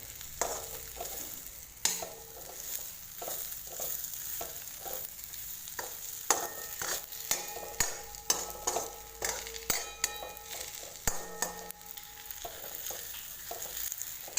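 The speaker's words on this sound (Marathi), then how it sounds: "आता याला फक्त फ्राय करायचा थोडासा गरम कढईमध्ये तो होऊन जातो" Stuffed okra (bhindi) fries in a hot wok, a continuous close sizzle punctuated by frequent clinks and scrapes of a spatula stirring against the metal, with no talking.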